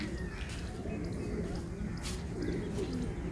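Domestic high-flyer pigeons coo in soft, repeated low calls under constant outdoor background hiss, with a few faint chirps from other birds.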